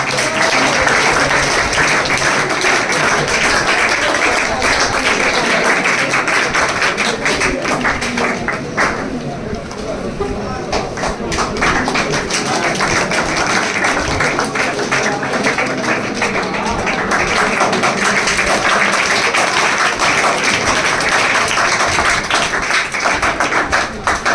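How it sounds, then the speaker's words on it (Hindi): Students selected at New Morning Classes are cheered with loud, steady clapping that fills the whole stretch. A few voices talk underneath, and the noise dips briefly partway through. "सिलेक्टेड बंदे हैं शाहरुख के लिए ताली हो जाए"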